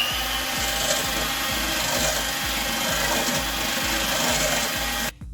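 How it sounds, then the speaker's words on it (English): An electric hand mixer on a low setting blends key lime pie filling with sweetened condensed milk, a steady whirring drone with a regular pulsing beat that runs throughout, then cuts off abruptly at the end. "going to start mixing or blending all the ingredients together"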